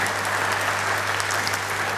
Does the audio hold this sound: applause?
yes